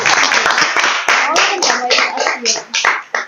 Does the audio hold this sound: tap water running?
no